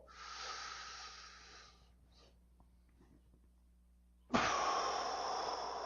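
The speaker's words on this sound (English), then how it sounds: "I'm going to breathe in as much as I possibly can." A long, deep breath drawn in during a beginner trumpet lesson, a loud airy inhale that fades, a quiet pause with faint sounds, then a sudden strong rush of breath resuming.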